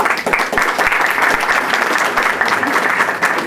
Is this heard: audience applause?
yes